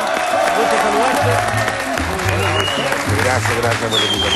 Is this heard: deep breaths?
no